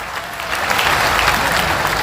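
A crowd at a political gathering gives loud, dense applause for a state party president, a close and sustained burst of clapping that swells slightly after the start.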